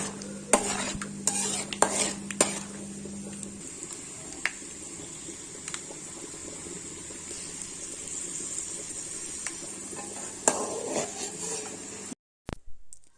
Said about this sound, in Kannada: ಈಗ ನೋಡಿ, ಕಡಲೆ ಬೀಜ ಎಷ್ಟು ಚೆನ್ನಾಗಿ ಫ್ರೈ ಆಗಿದೆ.